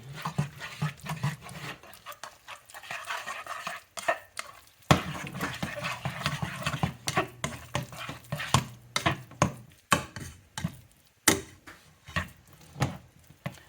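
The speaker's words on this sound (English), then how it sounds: "Add your 1 egg. Mix that in." An egg being mixed into a Florida-style shrimp and crab burger mixture in a pot just off the heat, with a spoon scraping and stirring in a steady, uneven rhythm of soft rubbing strokes and light clinks, close and fairly quiet, with no talking.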